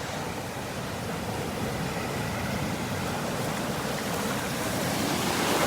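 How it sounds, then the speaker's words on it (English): Winter ocean waves roll onto the beach at Pawleys Island on a foggy morning, a continuous broad wash of surf with steady wind noise, loud and enveloping, with no voices. "Look at the waves, wow."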